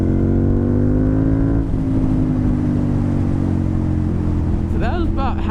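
A Ducati Monster motorcycle engine held at about half throttle, a steady loud rev with strong harmonic drone that dips briefly midway, then settles and hums on, with a faint higher chirp near the end.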